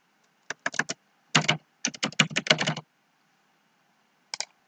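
Bursts of typing on a computer keyboard while entering text into a spreadsheet query, quick close clicks in several clusters separated by short pauses, alone in a quiet room.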